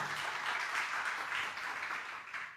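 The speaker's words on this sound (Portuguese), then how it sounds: "Aplauda ao Senhor em nome de Jesus" A church congregation applauds the Lord at a worship service, a dense, steady wash of many hands clapping at once, fairly loud and sustained throughout with no voices rising above it.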